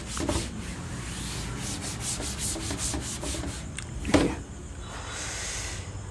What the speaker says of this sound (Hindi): इसको ऊपर का रब करते हैं.